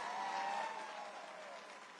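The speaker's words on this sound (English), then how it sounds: "let's give a big round of applause to the men and women of the majestic USS Kearsarge" Brief burst of audience applause for the sailors of the USS Kearsarge at a Navy 250th anniversary event, a faint, distant wash of clapping that fades slightly toward the end.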